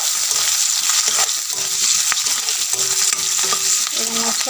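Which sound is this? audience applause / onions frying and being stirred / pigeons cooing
onions frying and being stirred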